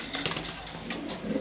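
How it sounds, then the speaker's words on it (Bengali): A male pigeon, a nesting bird with chicks, gives a brief, soft, low coo up close over faint background noise. "এটা নর কবুতর, এর বাচ্চা আছে উমে"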